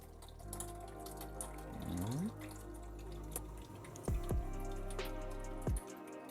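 Homemade pasture-raised bone broth drains out of an Instant Pot after pressure cooking, a quiet stream breaking into scattered drips and plops that trickle away near the end.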